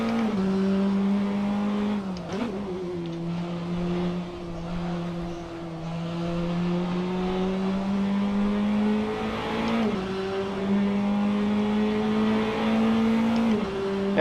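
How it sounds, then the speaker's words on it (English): A prototype race car resembling an LMP2 car drones steadily through a sim racing video game, holding a constant engine pitch with a few quick dips and rises as gears shift and the throttle eases, heard alone and up close. "These prototype looking cars, so responsive."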